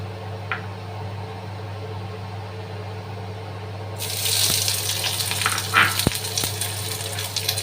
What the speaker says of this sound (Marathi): आता थोडंसं तेल गरम झाल्यावर मी याच्यात कांदा भाजायला टाकणार आहे।